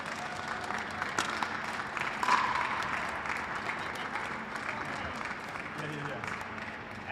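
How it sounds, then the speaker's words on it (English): Sustained applause from a crowd at a pickleball medal ceremony fills the whole span, a steady wash of clapping with some speech faintly underneath. "Round of applause."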